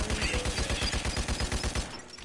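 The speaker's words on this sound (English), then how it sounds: "when you shoot the upgraded crossbow bolt" Rapid, evenly spaced bursts of shots from an upgraded crossbow bolt in a Roblox game, about fifteen quick repeating thumps in a steady rhythm that stop abruptly near the end.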